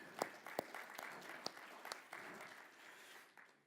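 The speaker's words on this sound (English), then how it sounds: "We all deserve a round of applause for that" An audience at a rabbi's talk applauding, a thin patter of clapping with a few sharper individual claps, fairly quiet and fading toward the end.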